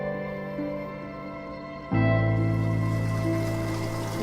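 Spring water runs in a continuous, even rush outdoors in quiet countryside, growing noticeably louder and fuller about halfway through.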